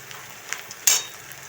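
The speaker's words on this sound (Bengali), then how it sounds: "এই পেঁয়াজ ভাজার মধ্যে আমি কাঁচা লঙ্কা দিয়ে দিচ্ছি" Onions with green chillies added sizzle quietly in a pan for chirer pulao, soft crackles and ticks punctuated by one brighter hiss burst as the chillies hit the hot oil.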